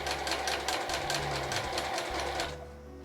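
A home sewing machine stitches a straight seam at a steady fast rhythm with a slightly odd mechanical noise, running close and loud for most of the time before easing off near the end.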